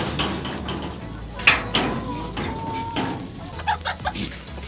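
Chickens clucking on a farm where they are fed grain beneath wagons, a few sharp near clucks and calls rising over steady background noise and low voices.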